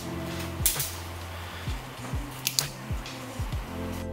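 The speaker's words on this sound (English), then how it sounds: "You then use your scissors to cut your film just to make sure the end is straight." Scissors snip through the end of 35mm film in a series of short crisp cuts, several quick clicks and snips close by with no talk.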